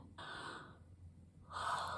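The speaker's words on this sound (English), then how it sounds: "And yawning is one way it does that." A person yawns with a soft, breathy drawn-in breath and a second airy exhale after a pause. Both are faint and close, with no speech.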